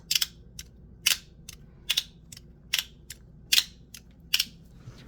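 A 2R Designs Phantom SL slider snapping through a series of sharp, loud mechanical clicks, about eight evenly spaced snaps over five seconds against a quiet background.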